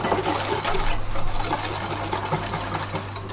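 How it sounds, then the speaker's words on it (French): An electric mixer whisks sugar and egg yolks for a diplomat cream, a steady loud motor whir with a constant hum and slight fluctuations, close and continuous with no talking. "on va fouetter donc le sucre et le jaune pour les blanchir"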